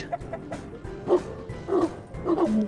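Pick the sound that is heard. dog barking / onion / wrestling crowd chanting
dog barking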